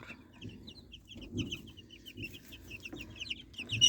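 Twelve-day-old baladi chicks chirp continuously in quick, high peeps over soft rustling, close and fairly faint.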